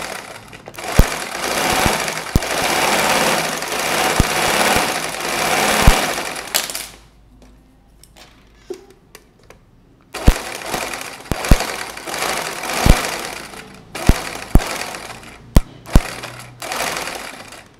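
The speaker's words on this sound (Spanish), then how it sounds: "Y comenzamos a coser en puntada recta, así de esta manera" A sewing machine runs a straight stitch in two loud bursts of rapid mechanical rattling, with a quiet pause between them filled by soft handling clicks and occasional sharp knocks.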